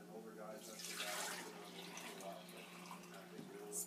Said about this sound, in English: I'm gonna go ahead and attempt to pour it in here.